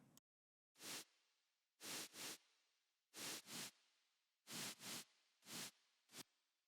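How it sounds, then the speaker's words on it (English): Bursts of bright white noise hiss in a rhythmic pattern of single and paired hits, each stopping abruptly, with silence in between. "And then I have some white noise"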